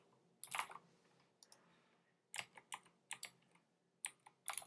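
Typing on a computer keyboard while coding, with bursts of quick key clicks separated by short pauses, close and clear with no talking.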